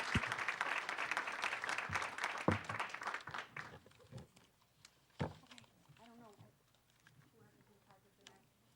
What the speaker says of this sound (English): round of applause, please, because they are wonderful.